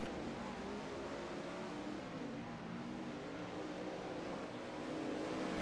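Non-wing sprint cars race on a dirt track at Kokomo, a dense, continuous engine roar heard from the stands that holds steady throughout with no break.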